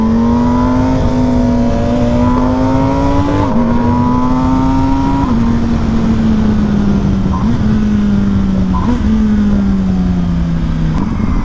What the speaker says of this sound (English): this bike sounds good, it just needs an exhaust